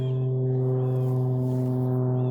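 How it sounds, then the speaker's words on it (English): A steady, low droning hum of an airplane passing over a garden, loud and constant with strong low tones, no voices. "Evidently there's an airplane flying over us."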